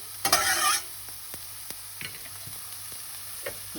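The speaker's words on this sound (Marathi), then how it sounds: "आतां पियाव जे भाजलो म्हणटकीर हांव आतां गार्लीक घालतां, चॉप कोर गार्लीक" Chopped garlic hits frying onions in a courgette dish with a brief loud hiss, then a faint low sizzle continues, broken by a few soft taps and stirring clicks.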